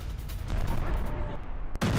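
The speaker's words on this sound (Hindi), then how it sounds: "रियाद में 2 बार धमाकों की आवाज भी सुनी गई है।" Explosions from an Iranian missile attack on Riyadh, Saudi Arabia, heard as a sustained, rumbling low roar of blasts with a sharp cutoff and renewed boom near the end, loud and dense, with no clear separate voices.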